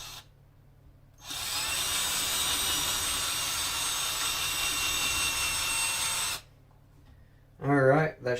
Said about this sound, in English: Should be able to just go ahead and drill this up right quick.